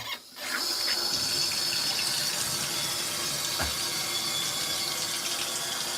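Hot water pours steadily into an LG ThinQ washing machine on a whites cycle with hot wash, a continuous close hiss of rushing water that starts abruptly and holds even throughout.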